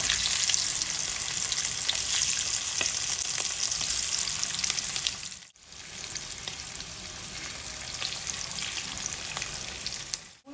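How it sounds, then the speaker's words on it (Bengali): Continuous crackling sizzle of a small batch of potatoes frying in hot mustard oil, close up, with a brief lull midway before it resumes. "আমি অল্প অল্প করে আলুগুলো ভেজে নিচ্ছি, ভেজে তুলে নিচ্ছি।"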